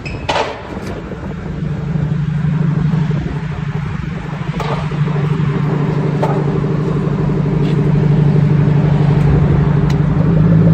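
A 1995 Lincoln Mark 8 engine with true dual exhaust and boom pipes rumbles loudly and steadily at close range, holding a deep, throbbing idle that builds slightly with a few light clicks.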